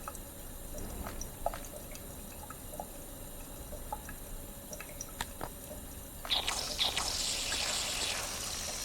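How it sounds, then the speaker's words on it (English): Liquid squirts and drips from the pipes of a vending machine in a video game, scattered dripping taps at first, then a louder continuous hissing spray bursting in for the last couple of seconds. "the liquid is squirting out of the pipes of the vending machine at full throttle"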